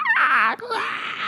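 A voice imitates a screeching sound heard outside during a storm: a wailing, moan-like vocal screech with a wavering, falling pitch, loud and close, breaking briefly before a second drawn-out screechy tone.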